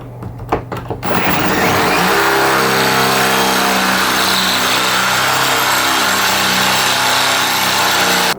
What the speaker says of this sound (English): So once you've drilled through both sides, this should completely come off.